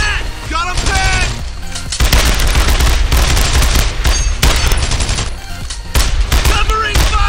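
Heavy gunfire in the World War II shooter Brothers in Arms, with dense bursts of rifle and machine-gun fire and booms that are loud and nearly continuous, while shouted voices break in near the start and end.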